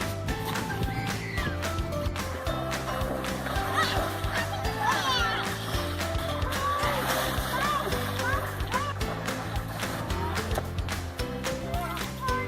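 Children swim and splash in a lake, with continuous busy splashing under lively kids' voices and chatter across the whole stretch.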